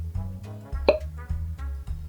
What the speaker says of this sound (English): Cork pop.